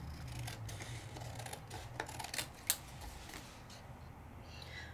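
Scissors snip around a stamped paper image in a quiet room, with a few soft, faint cuts and one sharper snip standing out, and no talking.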